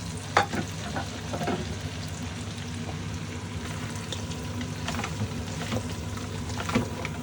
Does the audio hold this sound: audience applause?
no